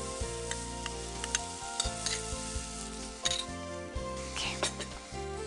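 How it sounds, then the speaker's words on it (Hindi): Onions sautéing in a pan for carrot and peas dalia hiss steadily up close, with light utensil clinks over sustained background music. "ये अनियंस थोड़े से सॉटे हो जाए"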